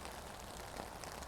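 Steady rain falling outdoors, a dense even patter across the whole stretch with no voices, soft and diffuse rather than close drips.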